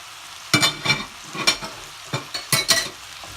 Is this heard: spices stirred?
yes